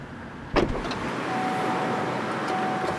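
A Chevy Bolt electric car powering on: one sharp thump up close, then a steady low hum with a faint thin whine that holds to the end.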